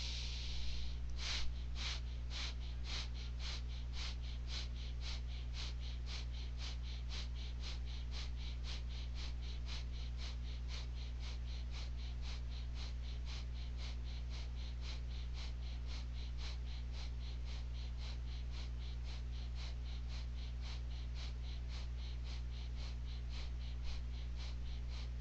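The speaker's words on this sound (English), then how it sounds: "So, breath of fire." Rapid, rhythmic breath of fire from a Kundalini yoga practice, a long, steady run of short, forceful exhales through the nose repeating at an even pace for the whole stretch, close and fairly soft.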